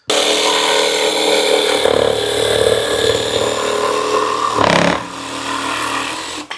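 WORX AXIS 2-in-1 jigsaw/reciprocating saw with a brushless motor cutting, a loud continuous buzzing rasp up close with a brief change in pitch partway through, no talking.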